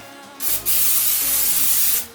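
Close-up hissing bursts from an aerosol cooking spray can, a couple of sustained sprays with a brief break between them.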